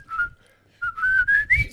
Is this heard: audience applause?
no